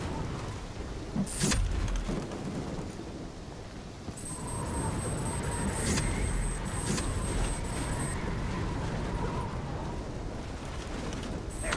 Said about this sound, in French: la tempête est trop violente